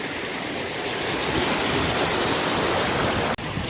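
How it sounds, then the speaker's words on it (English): A small stream flowing beside a hill walk path up The Cheviot in Northumberland, a steady close rushing babble of water that fills the whole stretch without a break, with no voices. "So we're back and forward across this little stream all the way up."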